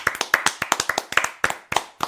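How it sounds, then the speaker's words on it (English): A live podcast audience claps in a quick burst of sharp, distinct hand claps with an uneven rhythm, close and fairly loud, with no talk over it. "Round of applause."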